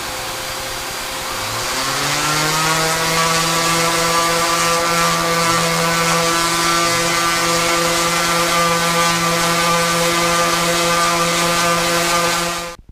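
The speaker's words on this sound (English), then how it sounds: "With the vacuum cleaner on the floor, now we can do a little sanding." An electric sander with a shop vacuum salvaged from the curb attached spins up after a second and holds a loud, steady whining drone with strong tonal hum, then cuts off abruptly at the end.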